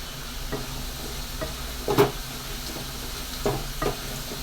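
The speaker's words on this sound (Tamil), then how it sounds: "இப்போ பூண்டு வந்து நம்மளுக்கு இந்த அளவுக்கு வதக்கியாச்சு" Garlic sautéing in a pan for a garlic chutney gives a soft, continuous sizzle up close, broken by a few scraping stirs, the loudest near the middle.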